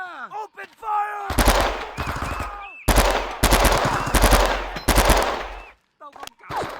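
Loud, rapid machine gun bursts from a Vietnam war video game hammer in two long volleys, with gaps between them and shouted battle voices and short effects cutting in around the firing.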